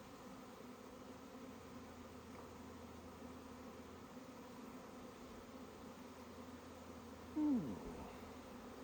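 Honeybees buzz steadily in an open hive with cross comb, nectar and capped brood, a dense, even drone throughout, with a brief voice exclamation near the end.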